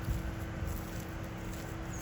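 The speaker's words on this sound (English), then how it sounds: "The HVAC units are running. We got landscapers blowing leaves." Outdoor HVAC units and landscapers' leaf blowers make a steady, continuous broadband drone with a low hum, unbroken for about two seconds and with no talking.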